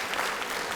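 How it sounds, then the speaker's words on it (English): A short burst of audience clapping during a college lecture, a brief, even patter of many hands with no voices on top. "you're clapping"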